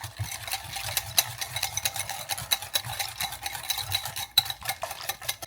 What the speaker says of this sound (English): we've reached a part of the movie where a whisk is required